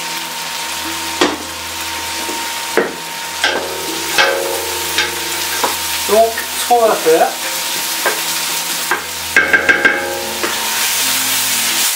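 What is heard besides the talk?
red cabbage braising and being stirred in a pan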